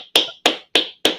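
Four sharp hand claps at a steady, even pace, loud and close, with nothing else around them.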